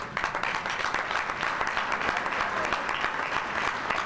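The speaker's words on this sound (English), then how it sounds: "For that, he should be applauded." Sustained applause from an audience at a senior volunteer recognition gala, honoring an Army and National Guard veteran; dense, steady clapping from a crowd of moderate size with no voices over it.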